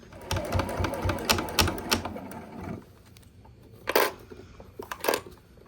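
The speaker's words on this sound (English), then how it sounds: "use the hand crank on the side of your machine just to walk it past that area" A sewing machine is walked slowly past a thick seam with its side hand crank while sewing a bowl cozy, giving rapid mechanical clatter that stops partway, followed by two isolated louder clunks.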